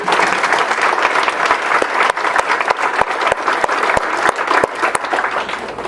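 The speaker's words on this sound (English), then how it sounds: "I think we need a round of applause for our narrators, too." An audience at a county historical society spring bridal event claps together in a sustained round of applause, dense, loud and steady throughout, with a few sharper individual claps standing out.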